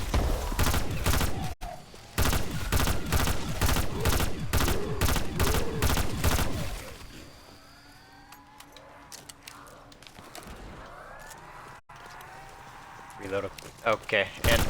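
An M16 rifle firing in a video game: a fast run of sharp, evenly spaced shots for several seconds, then quieter clatter and scattered sounds, with a player talking throughout.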